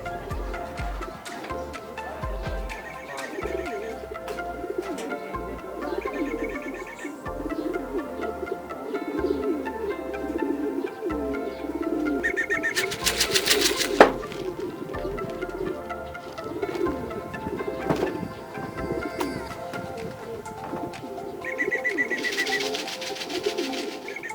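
Racing pigeons coo softly and steadily at their loft, several birds murmuring close by, with occasional wing flutters and faint rustling.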